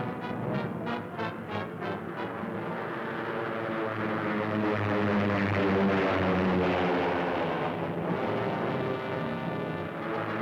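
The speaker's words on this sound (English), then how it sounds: "fighter planes are taking off in pursuit of the enemy" Loud, steady roar of World War II propeller fighter plane engines taking off, Sicily 1943, swelling slightly as the planes power up, with no voices.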